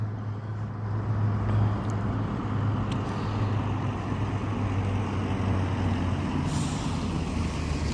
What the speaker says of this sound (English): Let these cars just kind of cross by.